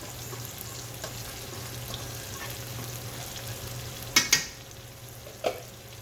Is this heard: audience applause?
no